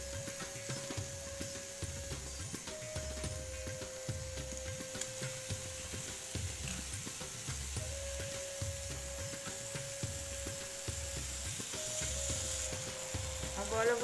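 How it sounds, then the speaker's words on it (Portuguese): Seekh kebab slid off skewers and roasting in a restaurant-style pan, sizzling steadily at close range with a repeating scraping rhythm of about one stroke per second, and no talking. "Você pega o kebab, com cuidado você tira do palito e coloca para assar."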